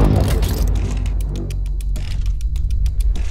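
A Rolls-Royce Cullinan with a twin-turbo V12 accelerates hard with a loud, steady engine roar and a rising, whooshing tone throughout.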